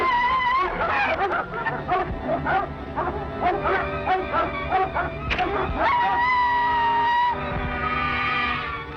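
Several dogs bark and howl loudly together, with yips and whimpering mixed into a dense, continuous chorus throughout.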